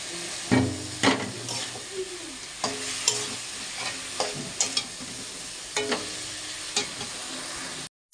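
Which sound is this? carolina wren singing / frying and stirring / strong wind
frying and stirring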